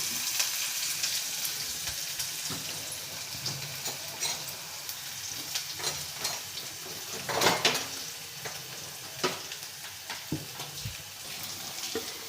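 Onion frying in a pan with sliced tomatoes, giving a steady, moderately loud sizzle with scattered crackles and a few light utensil clinks, no voices.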